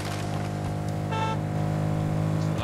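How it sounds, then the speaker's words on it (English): A car engine hums steadily with a brief higher tone cutting in partway through, a synthetic-sounding vehicle drone. "I heard a car over here."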